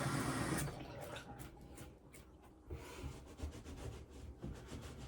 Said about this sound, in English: So we're going to wash our hands.